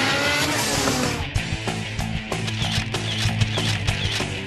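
A car fitted with a Skunk2 MegaPower exhaust revs close by, a loud, raspy engine note rising and surging in repeated bursts with sharp pops between revs.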